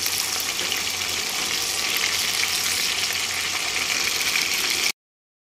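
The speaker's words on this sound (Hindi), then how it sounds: "यहाँ पे फाइनली मेरे हस्बैंड फ्राई कर रहे हैं टिक्कियों को" Minced-meat qeema tikkis sizzling in oil in a pan, a steady, loud hiss and crackle of frying that holds evenly before cutting off abruptly.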